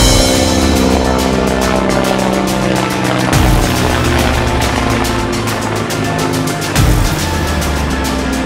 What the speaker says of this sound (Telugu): అమ్మ నాయన, మొత్తానికి హెలికాప్టర్ ఎక్కేశా